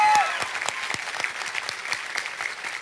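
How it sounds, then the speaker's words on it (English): A conference panel audience breaks into a round of applause, dense continuous clapping from a crowd that fades slightly, with no speech over it. "We get a round of applause for this motherfucking awesome guy"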